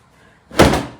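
One sharp, loud whump of a bedding cover snapped taut in the air while being shaken out, a single burst against near silence.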